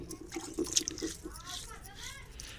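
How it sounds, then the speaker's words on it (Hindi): Water splashes and trickles as a stone grinding slab (sil) is rinsed before grinding chana dal, with soft dripping and a few light knocks close by, fairly faint. "सील को पहले धो लेती हूँ अच्छे से"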